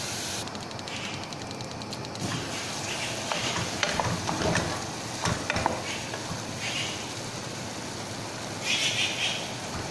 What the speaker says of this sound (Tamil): தக்காளி கொஞ்சம் வதங்கிடுச்சு